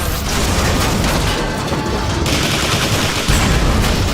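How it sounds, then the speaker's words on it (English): Dense gunfire from a sci-fi weapon blasting power cells in Transformers: War for Cybertron, a steady loud barrage with booming impacts and mechanical clatter, continuous throughout with no pauses. "Blast the power cells! I get to shoot more stuff?"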